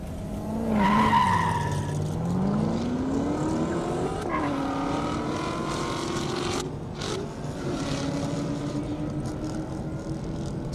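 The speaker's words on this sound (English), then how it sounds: "I'm pretty confident that that is a Corvette." Corvette roaring past at an airstrip half-mile speed event, its engine note rising then sweeping down in a long Doppler pass, loud and sustained with tire noise, no talking.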